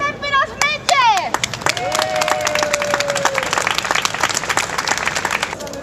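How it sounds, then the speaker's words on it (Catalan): Applause for doctors at a medal ceremony, crowd clapping rising after a few seconds of overlapping voices and whistle-like tones, then continuing as dense steady clapping. "Un aplaudiment per als metges!"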